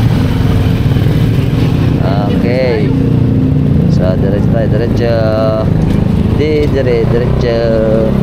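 Steady engine rumble of motorcycles in heavy street traffic during a procession in Hagonoy, with several engines revving and passing nearby while a person talks over the noise.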